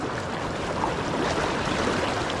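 A strong, deep river current rushes steadily at close range, a continuous broadband roar with no breaks and no voices.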